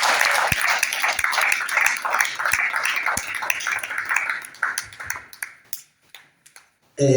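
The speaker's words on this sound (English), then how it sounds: "I ask you to clap your hands" A church congregation claps hands together, a busy crackle of many hands with a few sharper louder claps standing out, thinning into scattered claps and fading near the end before another sound cuts in.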